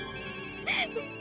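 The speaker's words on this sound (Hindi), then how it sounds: "Phone I." A telephone ringtone chimes in the Indian TV sitcom Taarak Mehta Ka Ooltah Chashmah, a short electronic melodic burst over a steady background tone, clear and moderately loud.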